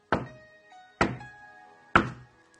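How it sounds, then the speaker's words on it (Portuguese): Three evenly spaced, solid knocks on a door, close and hollow, each one fading quickly with nothing else heard. "eis que estou à porta e bato."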